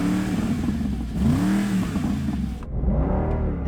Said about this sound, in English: let's do a sound comparison test